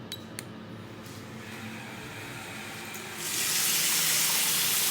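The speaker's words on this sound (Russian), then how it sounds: "Включить воду." A tap in a renovated apartment with a leak-protection system is switched on, and after a quiet stretch a steady, loud broadband rush of running water starts and holds to the end.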